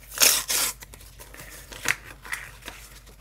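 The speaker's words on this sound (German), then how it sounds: "Den anderen muss ich erstmal auspacken" Packaging being torn open and crinkled while unwrapping a replacement part for an induction hob: a few loud close rips and rustles at the start, followed by fainter scattered crinkles and handling noises.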